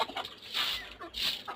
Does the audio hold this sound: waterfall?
no